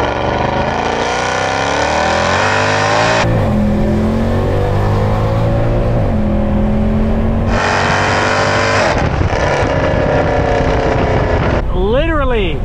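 A Mercedes C63 AMG W204, rear-wheel drive with 450 crank horsepower, pulls hard on a wet road; loud engine roar climbs through gear changes with rising and falling harmonics, with voices talking over it inside the cabin.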